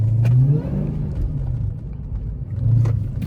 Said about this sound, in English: Get out the way, HELLCAT coming through.